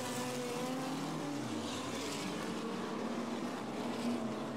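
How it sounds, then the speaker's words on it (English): Race cars at the Robertson Prestige International Speedway rev and accelerate together as the field takes the green flag on a restart. It is a steady, loud wall of engine roar with rising pitch and no voices. "Revs up, we go green."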